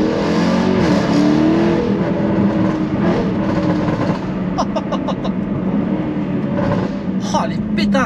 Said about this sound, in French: Oh, les pétarades, elles sont incroyables.